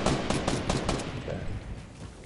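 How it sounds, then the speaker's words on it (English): Rapid gunfire from a multiplayer video game shootout, loud and dense bursts of shots packed together at the start and fading into a rumbling tail, with no voices. "All I hear is gunshots."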